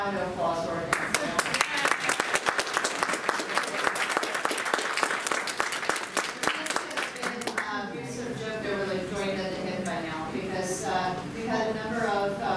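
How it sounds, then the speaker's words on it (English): Audience at a panel on Cuban abstract art applauding for Hortensio Soriano, dense crisp clapping for about seven seconds before it thins out and a speaker's voice takes over. "I don't think of a round of applause for Hortensio."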